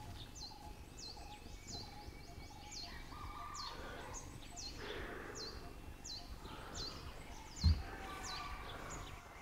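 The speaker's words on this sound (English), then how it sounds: "They're such prehistoric looking birds." Large birds calling repeatedly in the forest of Bandhavgarh National Park, India, a series of moderately loud, evenly spaced calls over a steady bed of insect and ambient woodland noise, with one brief sharp knock near the end.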